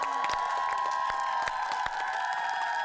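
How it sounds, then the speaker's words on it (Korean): A crowd claps and cheers steadily, with whoops and shouts rising over dense applause throughout. "설기 공주를 큰박수로 환영하겠습니다."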